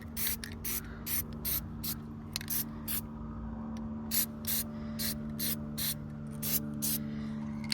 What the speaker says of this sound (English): We're gonna go ahead and spray some of the good stuff on the terminals here.